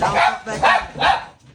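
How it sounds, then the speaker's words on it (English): Three sharp dog barks in quick succession, close and loud, with a short spoken phrase overlapping. "please excuse the dogs. They saw a cat."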